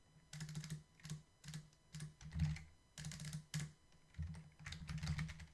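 Quick bursts of typing clatter on a computer keyboard at close range, several short runs of keystrokes separated by brief pauses, with no voices.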